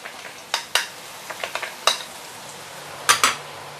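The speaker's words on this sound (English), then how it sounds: "we are going to saute all the chopped fresh herbs" Chopped shallot, ginger and garlic being sautéed in a pan, a soft sizzle under sharp, scattered clinks and scrapes of a utensil stirring against the pan, close by with no voices.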